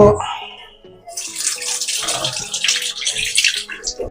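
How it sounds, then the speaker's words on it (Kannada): Mutton being washed under running water while cooking mutton sambar, a close, steady splashing and gushing of water with small clatters, no talking. "ಮಟನ್ನ ನೀಟಾಗಿ ತೊಳ್ಕೊಂಡು"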